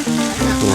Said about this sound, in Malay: nasi goreng pagi ni guna perencah Adabi